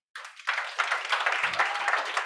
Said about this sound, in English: Give a big hand of applause to Fusebox from Estonia.